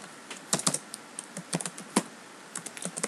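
Keys clatter on a computer keyboard in irregular close bursts, a quick run of clicks and then scattered single taps, with no voices.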